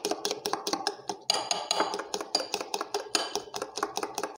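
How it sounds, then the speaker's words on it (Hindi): Chocolate chip cookie batter is mixed in a bowl, producing rapid, rhythmic scraping and clinking of a utensil against the bowl, close and fairly loud, with no talking. "इसको अच्छे तरीके से 2 से 3 मिनट तक हम मिक्स करेंगे"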